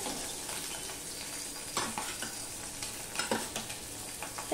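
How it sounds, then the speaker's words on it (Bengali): Tengra fish full of roe fry in hot oil with a continuous sizzle, punctuated by sharp pops and crackles that burst out irregularly from the pan. "মাছের পেটে না ডিম রয়েছে, তাই জন্য এরকম ফটফট আওয়াজ হচ্ছে।"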